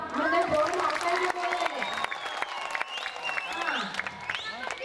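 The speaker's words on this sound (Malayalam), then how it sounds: "ഞാൻ നന്ദി പറയുമ്പോൾ അതിൻ്റെ ഒരു കൈയടി ആവാം" An audience at a Mappilappattu stage show breaks into applause, a dense patter of clapping that runs throughout beneath a loud amplified voice on stage.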